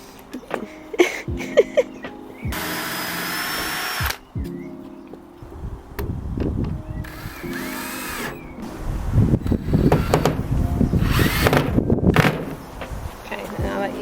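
A power drill bores holes outdoors at a countryside cottage garden, whining in three separate bursts of a few seconds each. Rustling, handling noise and brief voices fall between and beneath the drilling.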